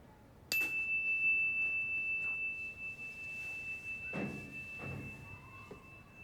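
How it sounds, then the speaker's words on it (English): A single struck bell rings out with a sharp attack and a pure sustained tone that slowly fades away, faint rustling and small movements heard beneath it. "when the bell stops, when you can't hear it anymore, raise your hand"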